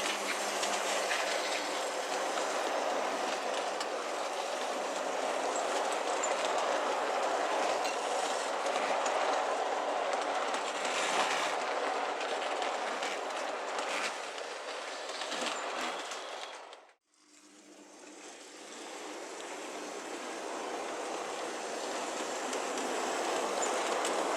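A train with an LNER buffet car among LMS carriages rumbles steadily past on the rails, loud and continuous, with a brief sharp drop in sound near the end before the roar resumes.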